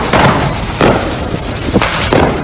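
Fireworks go off inside a burning fireworks factory: several loud, sharp bursts and cracks at irregular intervals over a constant roaring background.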